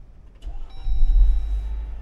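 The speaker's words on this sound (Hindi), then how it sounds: "ये गाड़ी स्टार्ट हो गई, ये ऑटोमेटिक गाड़ी है।" A Jeep Wrangler Rubicon with a 2.0 petrol engine and automatic gearbox starts up, a short electronic chime and click followed by a deep engine catch that settles into a low, steady idle close by.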